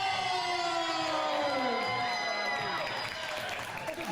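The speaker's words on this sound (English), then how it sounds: "listen to that crowd. Yeah, they are fired up for this" A live wrestling crowd at a BCW Texas event cheers and roars steadily, with a rising siren-like wail and a commentator's voice over the noise.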